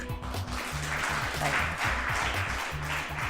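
Audience applause in a French broadcast studio greeting a short animated film director, a steady wash of clapping with rhythmic music thumping underneath throughout.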